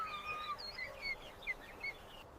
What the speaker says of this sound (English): Only after the eagle disappears does the hornbill switch to softer calls.